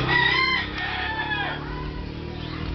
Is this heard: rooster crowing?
yes